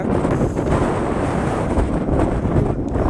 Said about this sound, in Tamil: காத்தும் அருமையா இருக்குது.